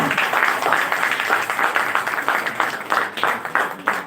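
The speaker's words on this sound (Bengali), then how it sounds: "আপনারা এদের জন্য একটা জোরে একটা হাত তালি" An audience claps at a Bengali film trailer launch for the movie Bohurupi, giving a steady, moderately loud round of applause with a rhythmic beat in the claps.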